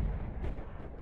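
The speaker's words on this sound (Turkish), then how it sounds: "Yine bomba bir yerlerimde patladı." A single dull, low boom of a bomb explosion in a video game rumbles briefly, muffled and heavy, with no voices.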